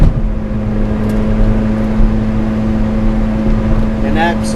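A 2007 Lotus Exige S drives along with a steady, droning engine and road noise inside the cabin, a constant tone holding throughout with a brief chirp near the end.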